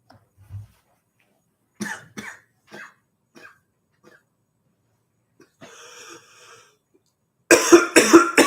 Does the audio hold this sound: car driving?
no